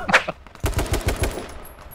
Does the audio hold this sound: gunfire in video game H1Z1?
yes